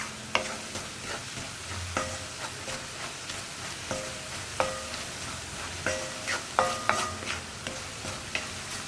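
Kashmiri chili powder frying in a pan for a tomato potato curry, stirred with a spoon that scrapes and knocks the pan in irregular strokes over a soft, continuous sizzle, close and fairly quiet with no talk.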